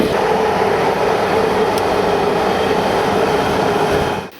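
A train rolls along a single-track electrified railway in the Balkans at a modest cruising speed, giving a loud, steady rumble with rail noise that cuts off abruptly at the end.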